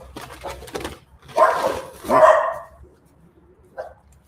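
Several dogs bark in short bursts close by, a few loud overlapping barks followed by a quieter one after a pause, with no voices.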